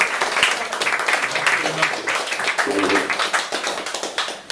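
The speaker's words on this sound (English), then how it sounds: "Round of applause." A crowd at an open-mic night claps steadily for several seconds, with scattered cheering voices mixed into the applause.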